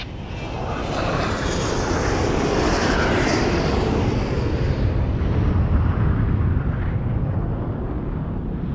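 Fighter jets taking off in the video game Ace Combat X, a loud sustained jet engine roar with rushing wind-like noise that builds after the first second and holds steady, no voices.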